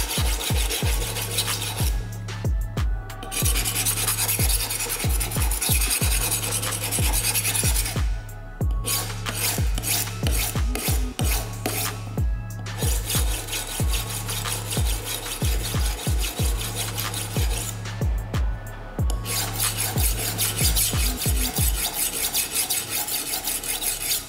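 A knife blade is drawn across a stone on a cheap $20 sharpening setup, giving steady rhythmic rasping strokes, close and loud, with a few brief pauses between sets of passes.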